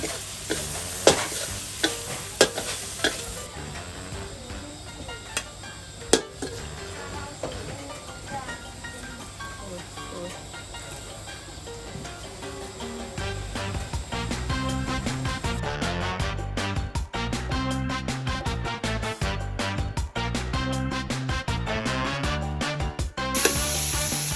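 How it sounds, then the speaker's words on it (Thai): Garlic frying in a pan at a Thai seafood restaurant kitchen, a steady sizzle with stirring and scraping that grows louder and busier partway through, under faint background voices. "ตั้งทอดกระเทียมนะ"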